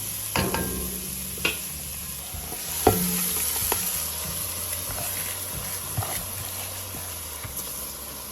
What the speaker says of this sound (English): I'll then add in my washed basmati rice.